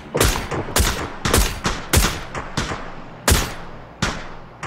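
Gunshots ring out in PUBG (Battlegrounds): about eight loud, sharp reports in an irregular rhythm, some in quick pairs, each trailing off with a short echo.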